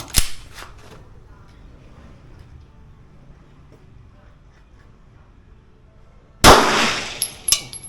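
A CZ P10c pistol fitted with a red dot sight fires a single loud, sharp shot at a shooting range. A faint crack comes just before it, and a low murmur of people talking runs underneath.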